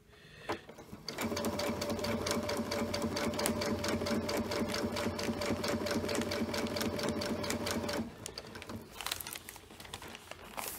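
A sewing machine runs a French seam on fabric for an Eddy kite, whirring in a fast, even stitch rhythm for about seven seconds close to the microphone, then stops and gives way to lighter handling noises.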